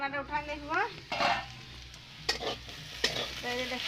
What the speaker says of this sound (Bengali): আমি ভাজিয়ে নেবো আলুটাকে